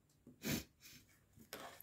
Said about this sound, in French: désolée pour le nez qui renifle